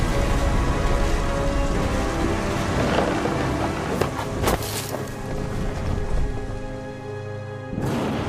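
Storm from What Remains of Edith Finch: a heavy constant wash of rain and wind, with a couple of sharp crashing bursts and a low rumble beneath, loud and enveloping.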